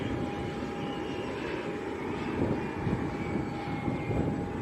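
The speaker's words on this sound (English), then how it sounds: "There's also the families arriving as well on an Eastern ATR." An Eastern Airways ATR turboprop arriving at Leeds Bradford Airport gives a steady, fairly loud engine drone with a faint whine, unbroken from start to end.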